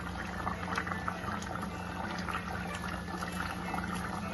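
A pot of Bengali-style country chicken curry simmers with garam masala, a steady low bubbling and soft popping heard close and continuous.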